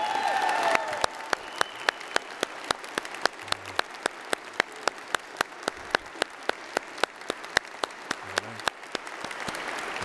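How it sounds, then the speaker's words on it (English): Guests at a wedding ceremony applaud the newly married couple after their vows. Crisp, evenly spaced claps ring out close by over a softer bed of scattered clapping that continues steadily. "Now let's give a round of applause to our newly married couple."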